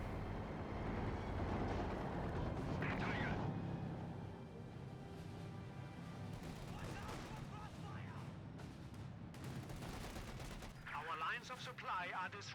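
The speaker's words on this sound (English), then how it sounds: "We do have a white phosphorus barrage coming on in." A white phosphorus artillery barrage lands in Company of Heroes 2, a multiplayer match, with rolling booms and crackling bursts of fire, dense at first and then scattered, under game ambience and a commentator talking.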